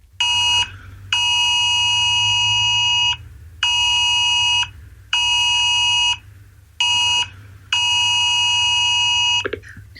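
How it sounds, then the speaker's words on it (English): UK national emergency alert test sounding on mobile phones: a loud, harsh two-tone buzzing tone that cuts on and off in six bursts of uneven length, with a low rumble underneath. "Let's listen to the alarm that is going to sound, as we said, at 3 p.m. this Sunday."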